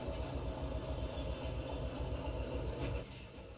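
Train wagons roll past steadily in the Derail Valley railway game, a loud continuous rumble with rhythmic wheel clatter that eases off near the end, with no talking.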